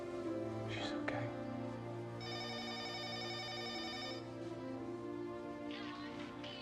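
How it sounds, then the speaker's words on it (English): A telephone bell rings in one sustained burst of a couple of seconds inside a family home, heard over a steady background of music. "the phone's ringing"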